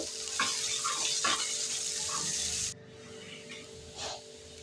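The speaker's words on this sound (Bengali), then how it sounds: "পেঁয়াজটা হালকা লাল করে ভেজে নেব" Chopped onion sizzles in hot oil for a Bengali fish curry, a bright steady hiss with stirring scrapes that cuts off abruptly, leaving a quieter low simmer.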